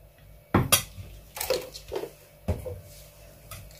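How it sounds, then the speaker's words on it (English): Yogurt being mixed with other ingredients in a bowl: a few sharp clinks and scrapes of utensil against the dish, in separate bursts with short pauses, close and fairly quiet. "I'm going to mix everything together"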